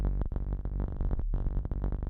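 Rapid, dense notes from a Korg Volca Keys synthesizer fire on every pulse of a sine wave from a PITT CC FLWR, a busy, messy stream of bright stabs with one brief gap near the middle.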